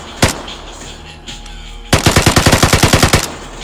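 A single gunshot, then a rapid full-auto burst of about fourteen sharp, loud rounds in quick, even rhythm from a weapon in the video game Vigor.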